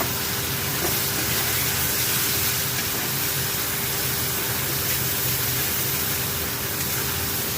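Spices tipped into a hot pan with chilli and tomato, a loud, dense hissing sizzle that holds steady and close throughout, no voices.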